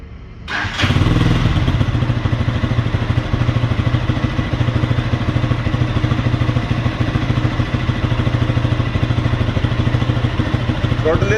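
Overdrive StarLight 200cc EFI cruiser motorcycle starting up and then running steadily on a ride, a close, continuous engine note with a thumping rhythm and no talk.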